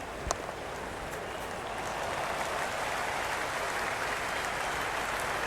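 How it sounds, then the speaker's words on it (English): Constant crowd buzz from the stands in the Cricket 26 video game during an India versus Namibia T20 World Cup match, a dense, steady roar that swells slightly after a brief early knock. "There's a buzz, a real buzz coming from the stands."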